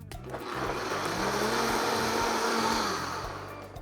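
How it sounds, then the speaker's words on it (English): A kitchen blender whirs steadily, purees a quick sauce for cannellini beans, and runs loud and close for a few seconds before winding down. "pouring it into my blender just to make a quick little sauce for our beans"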